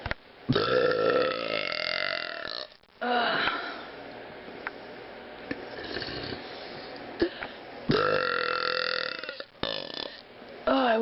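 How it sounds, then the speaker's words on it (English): Several long, loud, deep burps come close to the mic one after another, each drawn out for a second or two with short breaks between them. "Oh, I wish that this camera could capture the base of my burps, because they're absolutely immense."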